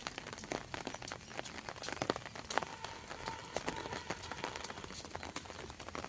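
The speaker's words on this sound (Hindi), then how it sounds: "तो बारिश लगी हुई है," Steady rain falls outdoors on a rainy-season day near a cleared yard with plants, a continuous hiss of drops patters throughout with scattered sharper taps, moderately near and unbroken, no one talking.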